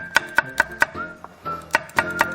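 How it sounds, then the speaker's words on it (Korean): A knife slices Cheongyang chili peppers into thin rounds on a cutting board, giving sharp, evenly spaced chops in two quick bursts of four, close and crisp with a short pause between. "그다음에 이제 청양고추 동그랗게 송송송"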